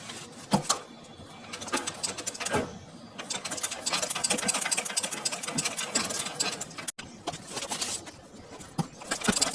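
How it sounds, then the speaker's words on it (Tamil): A sewing machine stitching on paper during a tailoring practice lesson, with loud, uneven bursts of rapid needle chatter that start and stop, broken by brief pauses and a sharp click near the middle. "ஃபூட்ரு இறக்கிட்டு இப்போ ஸ்டிச் பண்ணுங்க"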